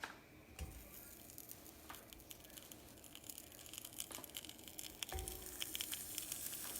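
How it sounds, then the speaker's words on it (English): Avocados sizzling on a hot grill pan heated to medium, a steady close frying hiss with scattered crackles and pops throughout. "I've heated our grill pan over here to medium, and it's getting really hot, so I'm going to stick our avocados on there"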